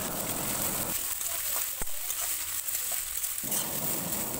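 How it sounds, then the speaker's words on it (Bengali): About 300 grams of onions frying in a karahi for chicken kosha, giving a soft, steady sizzle close by that briefly thins in the middle, with no talk. "এবার পেঁয়াজটাকে খুব ভালো করে ভেজে নিতে হবে"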